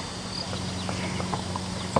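A horse's hooves clop on a street during a trail ride through an urban and rural setting, several sparse, fairly faint strikes over a steady hum and outdoor background.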